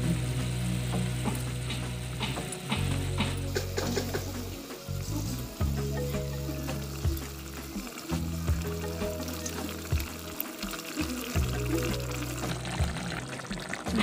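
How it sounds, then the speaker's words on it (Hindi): Fish pieces go into a boiling spiced curry, giving a continuous bubbling, sizzling wash with liquid pouring and stirring sounds, fairly close and with no talking. "उबाल अब आ गया है, इसमें मछली का पीस डाल देंगे।"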